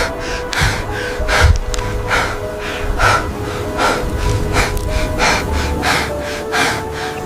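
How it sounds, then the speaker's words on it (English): Ragged, repeated gasps and heavy breaths after hard exertion on a high ledge, coming in quick irregular bursts close up with no talk. "They stopped on a high ledge, gasping."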